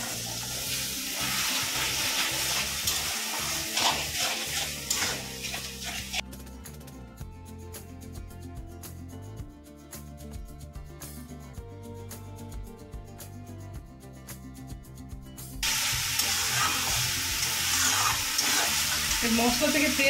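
Mutton masala with green chilies and a splash of water frying and being stirred in a pan, a steady loud sizzle with scraping strokes throughout.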